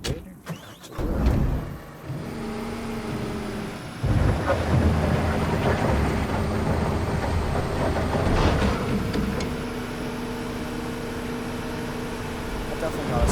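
Excavator working in the Construction Simulator 22 video game, heard as a deep, rumbling diesel engine drone with tonal whine. It swells and lulls as the machine moves, with a few brief clunks near the start.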